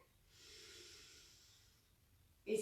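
A slow, steady in-breath during a guided breathing exercise, soft and airy, swelling gently over about a second and a half before fading, followed by a brief louder rustle at the end.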